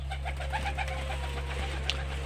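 Pigeons coo and flutter softly amid a steady low electrical hum, several brief calls scattered across a couple of seconds at moderate distance.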